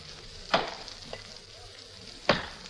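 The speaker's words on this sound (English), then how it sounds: "from the back of the house came the sound of somebody chopping wood" Somebody chopping wood behind a house in an old-time radio drama: two sharp, distinct chopping strikes about two seconds apart, with a fainter knock between them, over a low background hiss.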